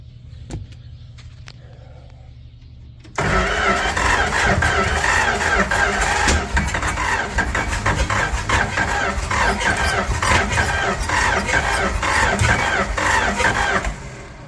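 A late-1960s A108 van engine cranks for about three seconds and then catches. It runs loud and close with a rough, steady roar that stays even for the rest of the clip, with no voices.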